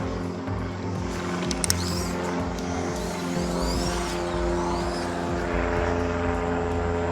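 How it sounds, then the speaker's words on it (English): A propeller airplane drones steadily overhead above an outdoor floating-deck building site, its engine hum loud and continuous, with a couple of brief sharp knocks early on. "Got an airplane flying overhead."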